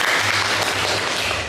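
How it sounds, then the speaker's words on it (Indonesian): Classroom audience applause during a teacher performance assessment session, a brief burst of dense, steady clapping filling the short moment at close range. "Beri tepuk tangan yang begitu."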